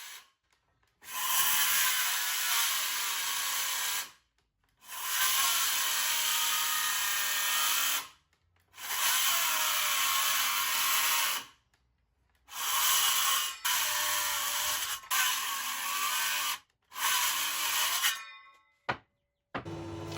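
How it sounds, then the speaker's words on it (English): Battery circular saw cutting through a dense, heavy reclaimed hardwood decking handrail: five loud, sustained cutting bursts of a few seconds each, separated by short silent pauses, with no talk. "My battery circular saw was struggling to cut through it."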